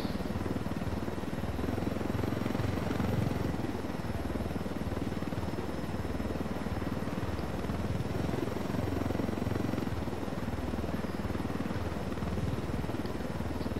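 A helicopter in a military shooter game flies overhead with a steady, dense rotor chop and engine roar, loud and continuous throughout without pause.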